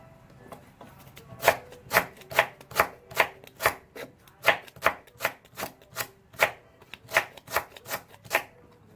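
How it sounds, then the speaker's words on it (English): A knife chops lemongrass rapidly and rhythmically on a cutting board, about two crisp strokes per second, close and clear with no talking. "finish chopping your lemongrass"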